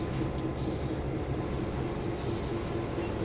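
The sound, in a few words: train in Train Sim World video game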